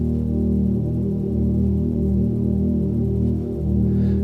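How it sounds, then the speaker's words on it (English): Synthesizer holds a steady tone while a triangle LFO sweeps its pulse width, giving a slow, smooth wavering in timbre, loud and continuous with no talking. "first we're going to use LFO to affect pulse width."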